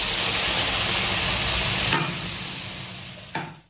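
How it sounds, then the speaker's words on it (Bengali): Potato and ridge gourd frying in hot oil tempered with nigella seeds and chili, a steady loud sizzle with stirring scrapes that eases off partway through, then a sharp clink near the end. "এখন তেলে কালো জিরে আর লঙ্কা ফোড়ন দিয়ে এই আলু আর ঝিঙ্গেটাকে একটু ভাজা ভাজা করে নিচ্ছি"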